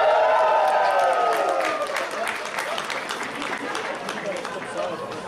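Convention panel audience at PAX Australia cheering and applauding for Tears of the Kingdom, starting with a loud burst of cheers and whoops that settles into sustained clapping from a large indoor crowd.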